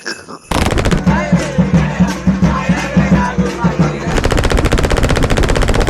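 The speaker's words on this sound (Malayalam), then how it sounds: "നമ്മുടെ സാൻഡയുടെ വണ്ടി നായ്ക്കൾ വെടിവെച്ചിട്ട്" Rapid automatic gunfire in the Grand Theft Santa video game, loud bursts of machine-gun fire running almost continuously across the clip with a brief quiet start.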